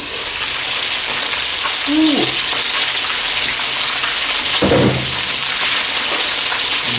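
Pan-seared lamb chops sizzle and hiss steadily in a hot pan, a continuous bright frying noise, while a voice briefly exclaims over it twice.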